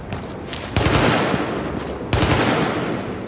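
Gunfire from a weapon in the video game Tom Clancy's The Division, two loud bursts of rapid shots about a second and a half apart, each with a sharp onset and a noisy tail that hangs on, with no talk over it.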